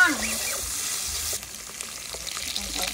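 Garlic fries in a pan with a bright, steady sizzle and crackle, loud and close, with brief stirring sounds and no talk.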